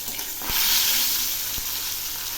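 A salted, turmeric-rubbed fish head fries in hot oil after being flipped, giving a steady close sizzle with a couple of sharp pops and crackles.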